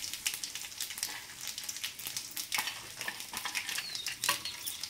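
Small onions and tempering seeds frying in hot oil, a steady close crackling sizzle with quick popping spatters, alone with no voices.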